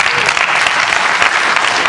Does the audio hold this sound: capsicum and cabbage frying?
no